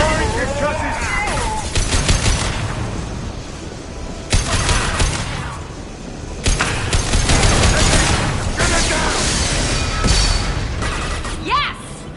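Heavy video game gunfire pours into a loose fuel tank to bring it down, with continuous rattling shots, crashes and booms throughout while voices talk over the action.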